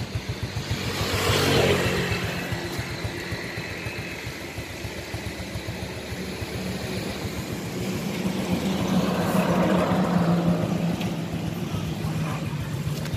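A 1999 Honda Wave 110 Thai motorcycle with a Thai aftermarket exhaust idles steadily nearby, its low rapid engine putter continuous throughout with a slight swell in the middle.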